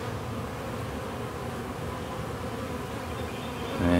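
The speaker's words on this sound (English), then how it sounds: "I think most of the bees are in" Dense swarm of honeybees droning steadily around a wooden hive box at a cabin cutout, a continuous close buzz that holds level and swells slightly louder near the end.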